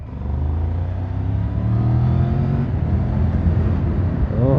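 Triumph Tiger 1200 motorcycle accelerating on a road trip in Wales, its engine rising in a close, loud, steady drone with climbing pitch over wind rumble.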